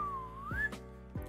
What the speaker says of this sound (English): Old Tom and Jerry whistle every time I strike out